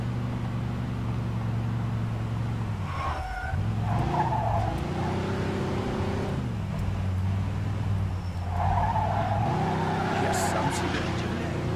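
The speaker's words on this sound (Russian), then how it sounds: "Неплохой занос." A car in Mafia 2 slides through a drift, tires squealing over a droning engine whose pitch dips and climbs, with two separate skids; someone speaks briefly over it.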